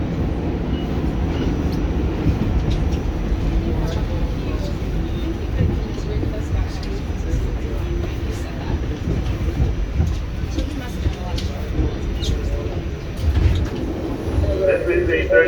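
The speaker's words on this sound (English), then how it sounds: "This is a 34th Street bound W train." Steady rumble of a New York City subway R46 car on the W line heading toward 34th Street–Herald Square, with continuous rail roar and faint clacking throughout, and a brief louder swell near the end.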